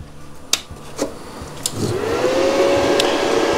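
A YesWelder Flux 135Pro flux-core welder powers on after a few sharp clicks and knocks, its internal fan spinning up into a steady whirring hum nearby with no talking.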